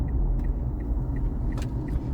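Cars passing on a road nearby, a steady low rumble of engines and tyres with a faint jingling ticking over it, heard from close by.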